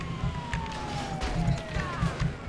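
Ambulance siren wailing in GTA V, a steady falling tone running under loud game chaos and rumbling engine noise, with people talking over it.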